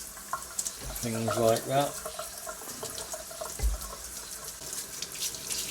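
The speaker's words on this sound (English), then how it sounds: "I'm just going to run those under the tap with a little bit of fairy liquid" Ironing-board parts rinsed under a running tap with washing-up liquid, a steady wash of water through the clip with someone talking over it.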